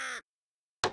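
Crows caw in the video game Vikings: Wolves of Midgard, a short harsh call cutting off, then a fresh loud caw starting after a brief silence.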